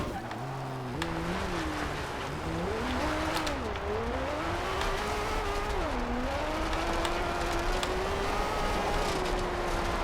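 An Aston Martin One-77 driven on gravel in Forza Horizon 2, its engine droning steadily throughout with rising and falling revs and gear shifts, loud and close, with some tire noise and no talking.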